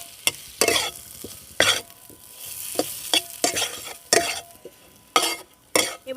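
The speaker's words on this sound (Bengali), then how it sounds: "দিয়ে 2 মিনিট এই মশলার সাথে খুব ভালো করে একটু কষিয়ে নেব।" Boiled, hand-broken potatoes sautéed with spice masala in a pan, irregular bursts of sizzling and scraping stirs with brief pauses between, close and clear.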